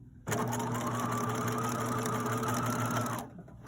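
A sewing machine runs a short burst of back-tack stitches on a fabric popcorn bag, a close, steady mechanical whirr with rapid needle chatter that starts suddenly and stops about three seconds later.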